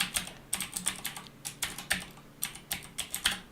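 A run of quick, crisp key clicks on a computer keyboard as a chart title is typed, evenly paced and close, with no talk.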